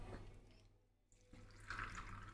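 Water pouring over peanuts in a bowl to soak them, a faint low trickle that fades briefly then returns steadier and slightly louder, with no talking.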